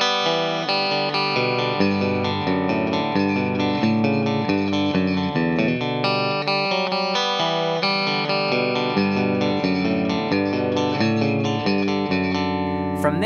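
A distorted electric guitar plays a busy, driving intro riff with an effects-laden tone, continuous and loud throughout, with no voice.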